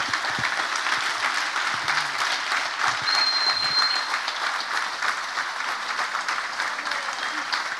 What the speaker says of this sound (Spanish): les pido un aplauso tremendo para ellos